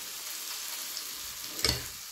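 Potato pancakes frying in hot oil in a home kitchen, a steady close-up sizzle with a brief louder crackle and spatter near the end, no voices.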